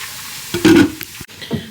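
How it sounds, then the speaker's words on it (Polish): Chopped onion softening in a pan while rice and cabbage cook for Polish gołąbki, heard as a brief close burst of sizzling and stirring with a couple of quieter scrapes after it. "tutaj się gotuje ryż, ryż tutaj się szkli cebulka, ważne, żeby cebulka była drobno pokrojona"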